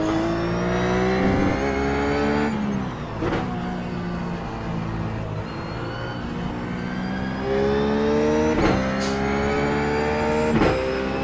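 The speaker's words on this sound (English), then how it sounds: "let's just try third gear through here this time, see if we hit the rev limiter" A Ruf GT3 race car engine in the iRacing simulator at Zandvoort revs up repeatedly through the gears, rising whines cutting off sharply as it bounces off the rev limiter, loud and close with no talking.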